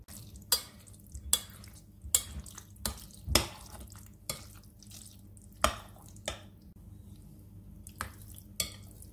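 A spoon stirs a yogurt mixture through a bead pasta salad in a bowl, giving a series of irregular wet clacks and scrapes, close and fairly quiet.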